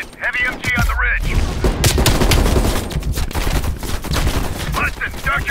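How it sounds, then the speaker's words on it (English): Heavy machine gun fire rattles in a Call of Duty Black Ops Cold War mission, dense loud bursts and booms filling the battlefield, with game voices shouting over the gunfire. "Heavy MG on the ridge."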